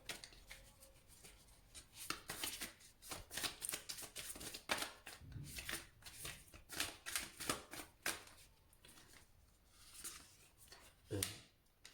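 Tarot cards shuffled briskly by hand, a quick run of crisp riffling flicks and slaps close up, then a pause and a few softer slides as cards are drawn.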